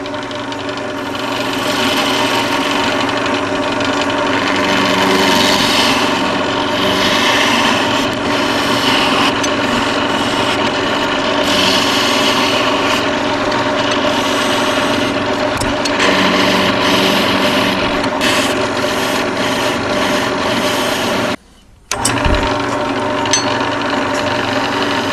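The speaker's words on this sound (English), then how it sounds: "I'm going to switch to a spindle gouge to get this part right here." A wood lathe whirs steadily while a spindle gouge scrapes and hisses against spinning wood, turning an eyeglasses holder, with one brief pause near the end.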